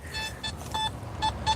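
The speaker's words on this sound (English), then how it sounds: "I'm mainly listening for a double signal" A metal detector sounds a series of short electronic beeps, some paired into a quick double signal, repeating over a steady low background during an outdoor coin hunt.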